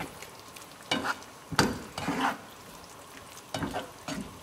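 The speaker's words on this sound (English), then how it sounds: "so it's simmering along nicely now and starting to reduce." Fish curry simmering and reducing in a pan, a steady close bubbling sizzle with several louder bursts of stirring spaced through it, no talk.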